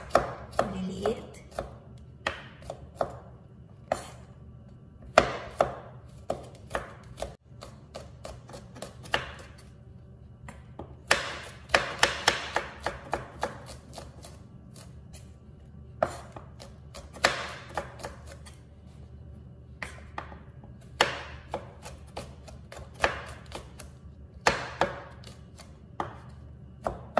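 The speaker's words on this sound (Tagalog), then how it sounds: "Unahin natin hiwain guys itong bawang. Hiwain lang natin ng manipis." Knife chopping garlic cloves into thin slices on a cutting board, a steady series of sharp, close taps with brief pauses in between, heard on its own with no talking.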